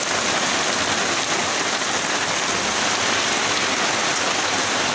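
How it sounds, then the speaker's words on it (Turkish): Heavy, steady rain pours down during a thunderstorm in a dense, continuous roar of broadband hiss, loud and close, with no pauses. "Amma acayip yağıyor bu yağmur"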